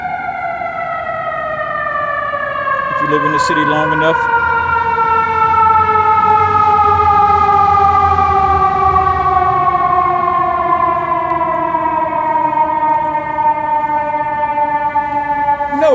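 A fire truck siren wails loudly through a city street at night, its steady rising and falling tones holding for the full stretch as the truck passes close by without slowing, with a brief horn-like blare early on and a low engine rumble beneath.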